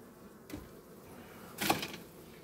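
Honey bees buzz at a beehive during a frame inspection, a faint steady hum broken by two brief louder surges of close buzzing.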